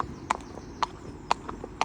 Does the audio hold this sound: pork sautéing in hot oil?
no